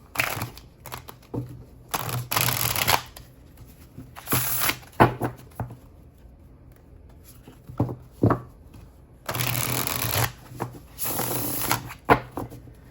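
A deck of cards being riffle-shuffled several times, each crisp fluttering burst lasting a second or two, separated by quieter handling and soft taps.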